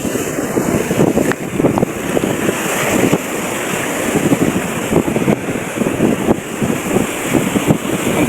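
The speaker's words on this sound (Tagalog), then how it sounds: "Napakalakas ng hangin." Strong wind buffets the microphone in a continuous roaring rush on a fishing shore, with heavy surf churning underneath and gusts swelling throughout.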